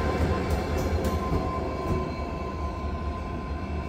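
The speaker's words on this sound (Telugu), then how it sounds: "సో వెళ్తుంది చూడండి రివర్సల్ కి అయితే." An Indian Railways train on the Jodhpur to Jaisalmer line through the Thar Desert pulls away for a locomotive reversal, with a loud, continuous rumble of wagons and faint wheel squeal overhead.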